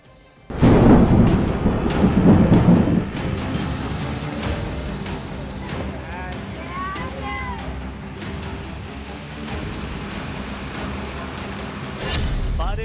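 Thunder and heavy rain from a severe monsoon storm bringing floods across Indian states, a loud rumbling burst at the start settling into a steady roar of rain, with brief bird-like chirps and traffic-like hiss mixed in.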